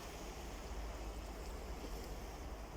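Quiet, steady lapping of sea water along a sunny beach, a faint rushing hiss over low wind rumble with no speech.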